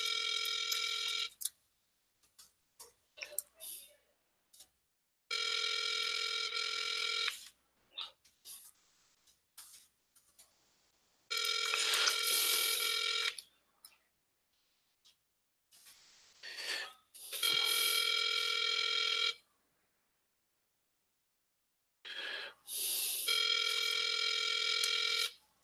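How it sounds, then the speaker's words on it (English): Outgoing call on a landline telephone line, the ringback tone sounding in four long bursts separated by silent gaps, clear and steady with no talking. "So it's just ringing and ringing."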